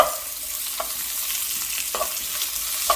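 Onion stir-frying in a spoonful of cooking oil in a pan, giving a steady sizzle broken by a few sharp scrapes of the utensil, close and clear.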